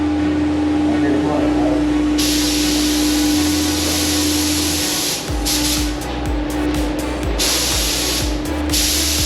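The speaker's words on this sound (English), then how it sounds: "what he's doing here is he's laying down a primer" A spray gun hisses steadily as primer is laid down on a replica Lamborghini Murcielago, with short bursts starting and stopping near the end over a continuous background hum.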